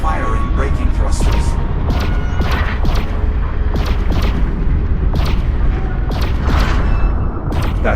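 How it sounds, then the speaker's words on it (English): Spaceship braking thrusters firing in the VR game Lone Echo II: a loud, continuous rumbling roar punctuated by repeated sharp thumping bursts, with voices talking over it. "Firing braking thrusters."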